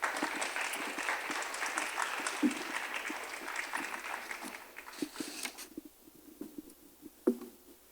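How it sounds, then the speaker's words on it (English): Audience applause after a solo classical Indian dance performance by a student, a soft, distant patter of clapping that fades out partway through, leaving scattered faint knocks and rustles. "Please give her a big round of applause."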